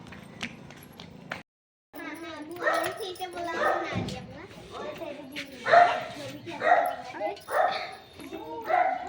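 Puppies yip and bark in a quick, uneven run of close, high-pitched calls, mixed with whimpers and overlapping talk nearby.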